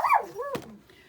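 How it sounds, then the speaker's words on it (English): A single short dog bark or yelp from a female dog indoors, rising then dipping, loud and close, followed by a quick sharp sound and then quiet room noise. "Now she's barking."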